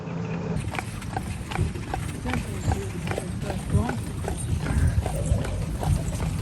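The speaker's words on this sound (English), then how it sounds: "we had a very, very good time on this horse carriage" Horse-drawn carriage hooves clip-clopping in a steady rhythm on a town street in Bardstown, moderately close, under continuous talking.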